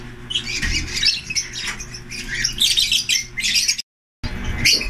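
A sick bird squawks repeatedly in harsh, raspy bursts, close by, over a low background hum, with a brief gap near the end.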